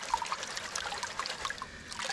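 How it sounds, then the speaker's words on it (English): Water trickling and flicking as gravel and ironstone are raked back and tossed out of a gold pan, a soft steady wash of splashing and dribbling, close and fairly quiet, with no talking. "with water I just rake it back and flick it out the back of the pan"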